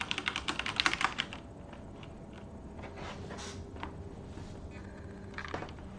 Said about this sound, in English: I'm gonna do a typing test really quick.